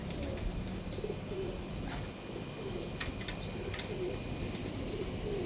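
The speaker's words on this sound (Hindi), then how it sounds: "शानदार कबूतर है" Breeder pigeons coo softly and repeatedly over steady outdoor background noise, with a few faint chirps scattered throughout.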